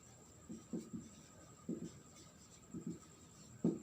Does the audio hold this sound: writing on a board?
yes